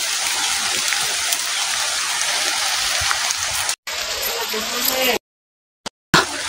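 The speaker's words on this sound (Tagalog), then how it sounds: "Ay, lakas ng ulan" Steady, dense hiss of heavy rain pouring down, with brief dropouts near the end where the sound cuts out entirely.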